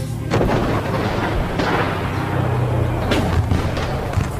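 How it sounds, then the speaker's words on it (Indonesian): A dense, loud barrage of automatic gunfire mixed with heavy booming explosions, continuous and chaotic throughout. "Ledakan senjata otomatis dan suara peluru yang melesat membuat suasana semakin kacau"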